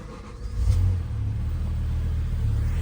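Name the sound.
2008 BMW E60 M5 engine idling with stock exhaust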